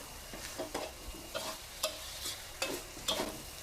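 Glass noodles and cha-om leaves are tossed in a hot pan, giving a light sizzle under a series of irregular scraping stir strokes, close up, with no voices.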